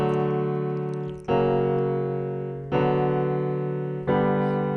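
Piano playing four sustained hymn chords one after another, each struck cleanly and left ringing to fade slightly before the next, heard up close with no voice.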